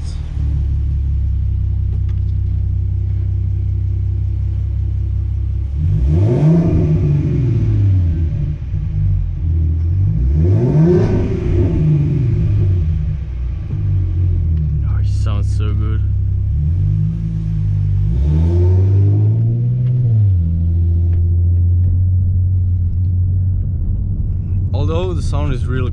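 A Ford Mustang with a 3.7-litre V6 of 305 hp revs up and down in several loud, rising and falling sweeps over a steady idle rumble, captured from the driver's seat.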